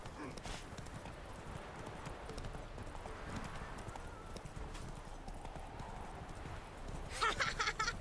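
Horse hooves clip-clopping at a steady walking rhythm in The Witcher 3, close and continuous under game ambience, with a brief brighter burst near the end.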